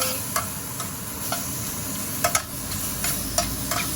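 Mushrooms crisping in hot bacon fat give a steady sizzle with scattered sharp crackles and pops, close and moderately loud.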